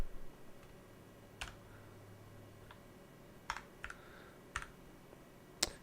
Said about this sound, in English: This is a gaming keyboard that I use, but it's not good when it comes to coding.